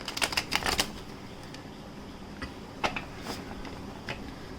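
Tarot cards are shuffled by hand in quick papery bursts of riffling and slapping. A dense cluster comes first, then scattered softer flicks, all fairly close with no voices over them.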